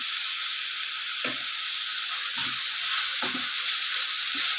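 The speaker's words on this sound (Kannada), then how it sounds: "ಇದನ್ನೆಲ್ಲ ಚೆನ್ನಾಗಿ ಫ್ರೈ ಮಾಡ್ಕೋಬೇಕು ಸ್ವಲ್ಪ ಎಣ್ಣೆ ಕಡಿಮೆ ಅನಿಸುತ್ತೆ ಅದಕ್ಕೆ ಸ್ವಲ್ಪ ಹಾಕ್ತೀನಿ" Vegetables with ginger fry in oil in a pan, giving a loud, constant sizzle. Occasional soft thumps from stirring come through the sizzle, and no one speaks.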